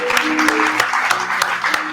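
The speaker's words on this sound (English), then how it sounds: "Give another round of applause for him." An audience at a storytelling fundraiser for The Mercury Cafe gives a round of applause, a mix of sharp individual claps over a dense clapping wash, fairly close and loud, with voices and cheers mixed in.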